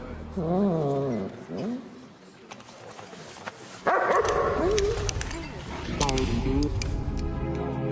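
A dog barks and yelps in short bursts, mixed in with people talking over it.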